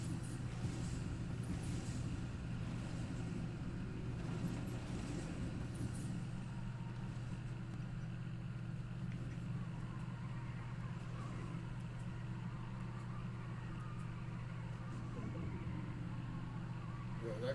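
A car engine in the Fortnite video game drones in a steady low hum, moderately quiet and constant, while players talk over it.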